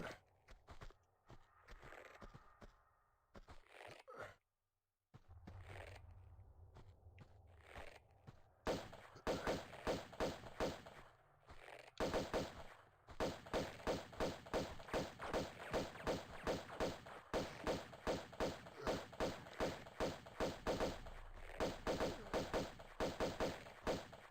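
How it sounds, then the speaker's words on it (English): Pistol shots ring out in Tomb Raider II, sparse at first, then turning into a fast, regular string of sharp cracks that fires in bursts with short pauses, loud and close with no talk. "I can just shoot him with my pistols"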